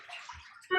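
Paper-making screen dipped into a tub of pulp water, a quick soft splash and slosh lasting under a second.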